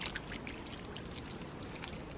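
Water pouring from a pipe outdoors onto hands being washed, a soft continuous splashing stream with small irregular spatters, fairly quiet and close.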